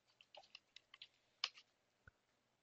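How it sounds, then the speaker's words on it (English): Quick, uneven taps of keys on a computer keyboard as a password is typed, several close keystrokes with one louder tap near the middle, all quiet and close with no talking. "Now I have to type the password that I want to set for"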